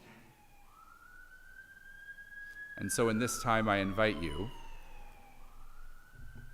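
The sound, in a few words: emergency vehicle siren passing outside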